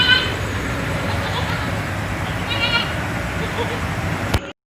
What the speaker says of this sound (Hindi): प्योर गुलाबी बकरी है।